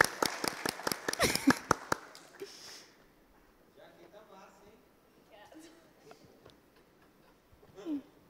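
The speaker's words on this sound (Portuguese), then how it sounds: "Sobe aí, uma salva de palmas, galera." Audience applause at a couple-talk event greeting a couple called to the stage, a short burst of sharp, close claps for about two seconds before fading into scattered talk and murmuring.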